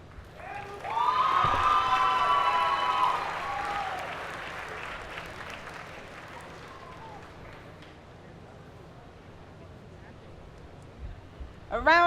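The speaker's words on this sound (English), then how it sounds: "A round of applause for the scholars at Northwest High School." An audience at a high school dual enrollment recognition ceremony applauds the scholars with sustained clapping that swells early and then slowly fades. A voice speaks over the start.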